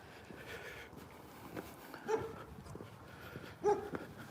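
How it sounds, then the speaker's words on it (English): Grumpy dog at a new Russian housing development gives two short barks, at about two and three and a half seconds, moderately distant over steady outdoor background noise. "A grumpy dog."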